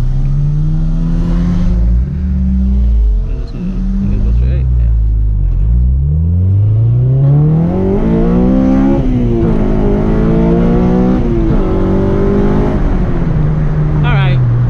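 A Honda Si engine revs through a Skunk2 header and a Full Race 3-inch exhaust. The deep, fairly mellow exhaust note swells and falls through several rising and dropping revs, loud and close, with a steady rumble throughout.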